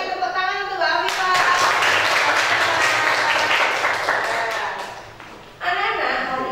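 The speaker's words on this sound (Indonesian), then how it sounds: "Tepuk tangan untuk Mbak Afifah." A classroom of children claps for a student in a burst of applause lasting several seconds, close and loud, starting and ending with a teacher's voice.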